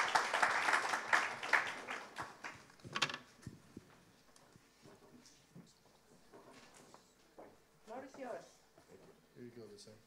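Brief applause from an audience greets a speaker invited on stage at a human rights day event, fading after a few seconds into quiet room sounds, shuffling and scattered voices.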